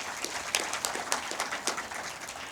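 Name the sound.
audience clapping for graduates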